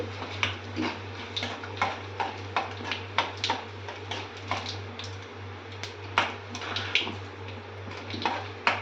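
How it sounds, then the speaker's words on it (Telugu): Scattered sharp pops and crackles sound irregularly over a steady low hum as tempering spices splutter in hot oil nearby. "నూనె వేడెక్కితేనే ఇలా వేస్తూనే మనకు చిటపటమని అంటాయి"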